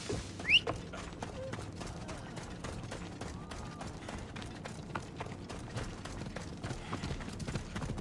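Horse hooves clip-clop at a steady trotting rhythm in Assassin's Creed Odyssey, moderately close and continuous under light ambient game sound, with a brief sharp whinny-like accent near the start.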